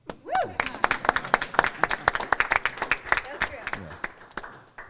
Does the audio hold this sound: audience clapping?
yes